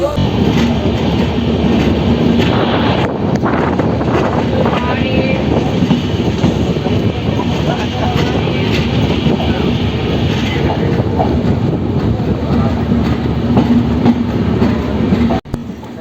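A fast-moving passenger train carries riders to a fair, a loud, continuous rumble and rattle of wheels heard from inside the carriage with a faint clickety-clack, steady throughout before cutting off abruptly at the end.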